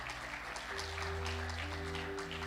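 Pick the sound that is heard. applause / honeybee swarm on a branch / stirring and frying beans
applause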